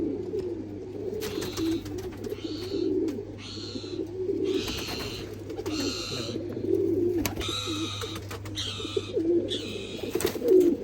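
Pigeons coo repeatedly at close range in a loft, with a low steady hum running beneath and bright chirpy calls layered over the rhythmic cooing.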